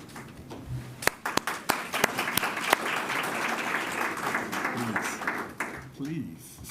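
Audience at a community heritage commemoration applauding an honoree at the podium, sustained clapping with a few loud nearby claps and cheers, a speaker's voice running over the crowd noise.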